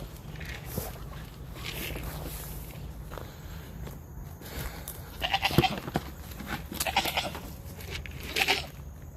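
Footsteps shuffle nearby while goats bleat a few times at moderate distance, with occasional rustling in the background.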